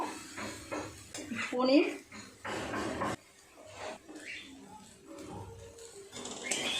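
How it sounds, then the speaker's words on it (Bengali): Paneer being stirred into a pointed gourd filling in a pan, with intermittent scrapes and clinks of a spatula against metal at close range, interspersed with quieter pauses. "দিয়ে দেবো পনির, খুব ভালো করে একটু নেড়ে চেড়ে নেব।"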